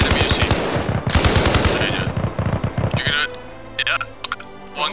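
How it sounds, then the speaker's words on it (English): Automatic rifle fire in the video game Arma Reforger, loud rapid bursts crackling for about three seconds, then scattered distant shots and clicks. "Shoot every enemy you see."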